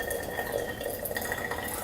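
Water from a Bonavita electric kettle poured to rinse coffee brewing gear and a filter, a steady close trickling splash with a faint tonal ring.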